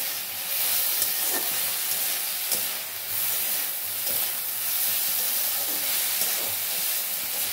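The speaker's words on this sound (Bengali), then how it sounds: "জাস্ট রসুন ফোড়ন আর শুকনো লঙ্কা ফোড়ন, কাঁচা লঙ্কা ফোড়ন দিলাম" Garlic, dried chili and green chili tempering in hot oil over cooked greens, a soft, even crackling sizzle with faint periodic stirring, fairly quiet and close, with no voices.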